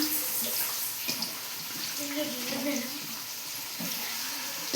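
Chicken liver being rinsed under running water for a liver gravy, with a steady wash of tap flow and splashing, fairly close and continuous, brief soft sounds of handling in the water.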